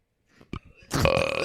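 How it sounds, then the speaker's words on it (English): A man lets out a loud, close burp, a long raspy eructation that follows a few faint vocal sounds and a short click. "I burped"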